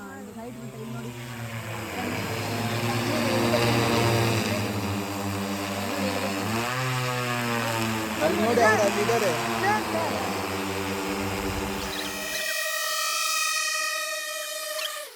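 An agricultural spraying drone flies overhead, giving a steady, loud droning whine whose pitch wavers and shifts, then settles into a cleaner tone near the end, with people talking over it.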